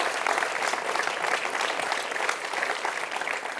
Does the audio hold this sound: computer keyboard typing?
no